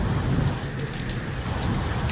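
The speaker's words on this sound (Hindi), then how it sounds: "जब ये बारिश आ चुकी है बहुत ही जोर की" Heavy rain pours down around a home during a storm, a dense, steady, loud hiss of drops hitting surfaces that fills the whole moment without pause.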